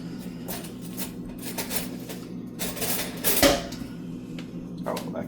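Spoon scraping and clinking against a bowl while a chicken shawarma yogurt marinade is stirred, giving irregular close-up clatters and scrapes with one sharper knock.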